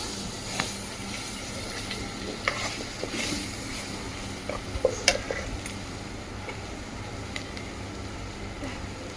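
Mutton pieces with chili powder, salt and turmeric are stirred in a pot in a village-style kitchen, soft scraping and occasional clinks of a spoon against the vessel over a low steady background.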